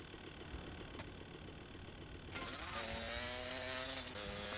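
A motorbike engine in GTA Vice City buzzes steadily, then revs up into a higher, brighter whine with clear rising tones.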